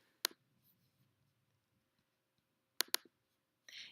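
Sharp computer mouse clicks: a single click near the start, then a quick double click about two and a half seconds later, close and crisp in an otherwise quiet room.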